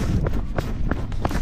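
Running footsteps pound on a mountain road in a quick steady rhythm, about four heavy strides close to the microphone, over rough rumbling background noise.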